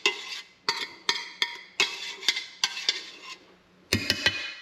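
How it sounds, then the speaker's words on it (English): Boiled pasta is lifted out of a boiling pot and moved into a cast iron skillet, giving a string of sharp metallic clinks and scrapes at a roughly steady pace, close and fairly loud, with short quiet gaps between. "take the pasta out of the boiling pot and transition it into the cast iron skillet"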